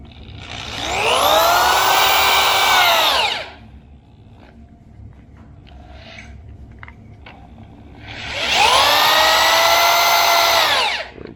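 A power drill whines up in two long bursts while driving screws, each run holding a steady high pitch for a few seconds, with a quiet pause of small clicks and handling noises between them.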